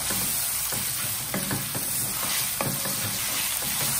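Ginger garlic paste sautéing in oil for hotel-style vada curry: dense, loud continuous sizzle with a few soft stirring scrapes, close up and without talking.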